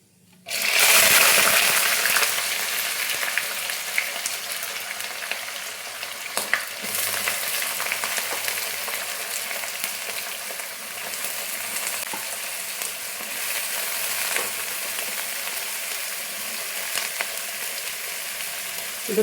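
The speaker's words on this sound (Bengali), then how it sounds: "এতে দিয়ে দিচ্ছি পেঁয়াজ কুচি," Chopped onions drop into hot oil with a sudden loud hiss, which settles into a steady close frying crackle with occasional stirring scrapes and no voices.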